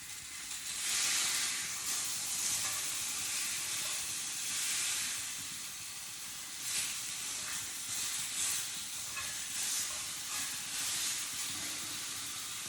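A T-bone steak sizzles in a pan after being flipped, a close, steady hiss with gentle swells and a few brief crackling bursts, no voices.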